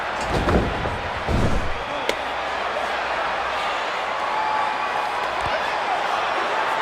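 A large arena crowd in the wrestling video game WWE 2K14 roars continuously, with a couple of heavy thuds and slams early on over the steady cheering din.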